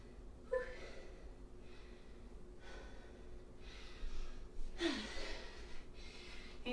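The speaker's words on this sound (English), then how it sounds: "Nice deep breaths here." Deep breathing during a fitness class: a few heavy, close breaths in through the nose and out through the mouth, with longer exhales near the end, fairly quiet and with no talk.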